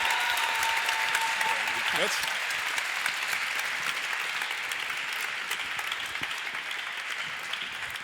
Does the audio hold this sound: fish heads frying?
no